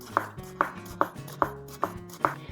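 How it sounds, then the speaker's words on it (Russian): A knife slices a large tomato into thin half-rounds on a cutting board, six sharp, evenly spaced chops landing close and clear with no talking. "Также отрезаю все лишнее и нарезаю тоненькими половинками."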